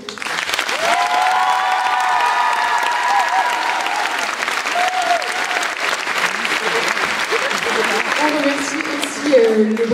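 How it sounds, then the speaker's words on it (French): Sustained, thunderous applause from the audience at an end-of-season choir recital, dense and continuous, with voices rising through the clapping and a few cheers near the end. "je vous demande un tonnerre d'applaudissements pour eux"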